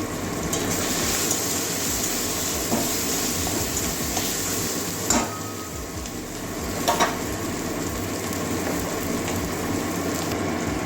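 Cumin and coriander seeds fry in hot oil for a soyabean curry, making a loud, steady sizzle with occasional sharper crackles and clinks.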